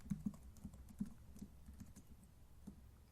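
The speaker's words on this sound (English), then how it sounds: "We're typing in password." Keys tapped on a computer keyboard while a password is entered, a quick cluster of clicks at the start and then scattered single taps, close and fairly quiet with no talking.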